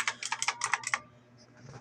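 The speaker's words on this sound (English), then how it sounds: "This is very noisy. It is really a mechanical keyboard after all." Rapid bursts of keystrokes on an HP GK100F mechanical gaming keyboard, several clacky presses in quick succession, close and fairly loud, then tapering off into quiet room tone.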